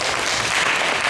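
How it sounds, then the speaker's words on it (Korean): A live audience at a Korean youth festival claps briefly in a dense, steady burst of applause. "박수 보내주시고요."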